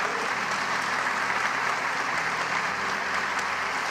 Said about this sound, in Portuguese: Dar um aplauso ao Senhor.